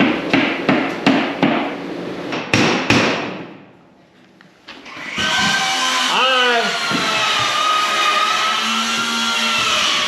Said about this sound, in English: He hanging plywood up in that cavity.